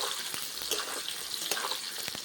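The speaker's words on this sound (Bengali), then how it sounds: "দেখুন তেলের সঙ্গে ভালো করে আমলকিটা ভেজে নিয়েছি।" Peeled amla, Indian gooseberries, frying in hot oil in a pan, a steady close bright sizzle with small crackling pops and occasional stirring clicks.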